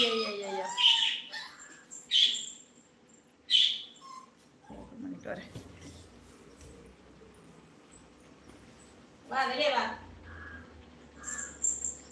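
Lovebirds let out sharp chirps and squawks in short bursts, close by, scattered between quieter stretches, while a person talks in the middle of the clip.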